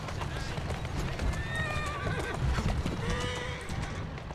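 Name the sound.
horse neighing and hooves clip-clopping in Assassin's Creed Syndicate video game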